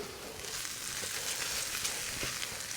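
Tomato paste fries in a pan for meatballs and spaghetti with a steady, close sizzle and faint crackles throughout, without any voices.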